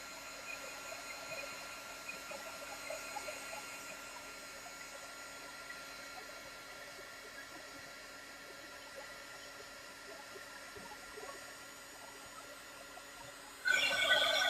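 A hair dryer drying a watercolor painting gives a steady, close whoosh that holds without a break, then grows louder near the end.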